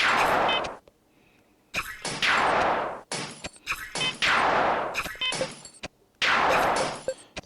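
In the Blindfold Invaders mobile game, rapid shots make a string of about six sharp, bright crashing bursts at fairly even intervals, loud and without talk.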